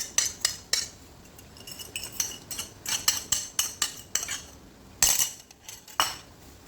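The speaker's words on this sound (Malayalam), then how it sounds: "ഇനി നമുക്ക് നല്ലതുപോലെ ഒന്ന് ഇളക്കി കൊടുക്കാം." Chinese noodles with sauce are stirred in a pan, producing repeated close metallic scrapes and clinks of a utensil against the pan in an uneven rhythm, with no talking.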